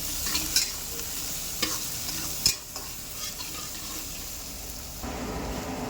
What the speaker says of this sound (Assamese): এতিয়া দিম মই কাটি থোৱা এই কেপচিকামখিনি। চাওক সৰু সৰুকৈ এইখিনি অলপ ভাজি ল'ম ধুনীয়াকৈ।